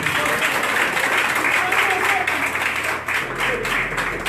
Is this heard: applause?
yes